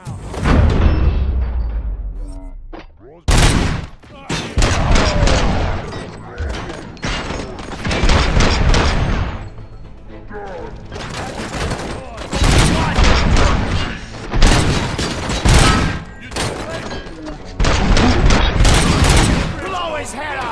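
Gunfire in the Robocop Rogue City video game, with repeated bursts of loud, sharp shots and rapid volleys over about twenty seconds, broken by brief lulls and occasional thuds.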